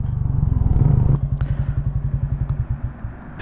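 A motorcycle engine idles close by at a stop during a ride in Nueva Vizcaya, a steady low putter that slows into distinct, evenly spaced chugs, with a few light clicks and clatter over it.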